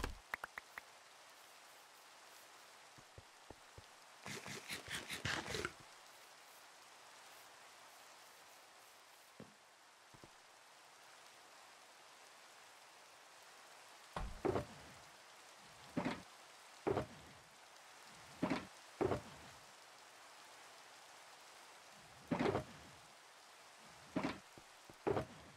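Rain falling in a video game, a faint, soft steady hiss under the whole stretch, broken by a cluster of crackles and several sharp, separate knocks or thumps spaced a second or two apart.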